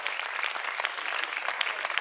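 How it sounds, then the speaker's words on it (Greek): A Greek television studio audience of mostly women applauds, a continuous crackle of many hands clapping at moderate loudness with no break. "Χειροκροτήστε ρε λίγο,"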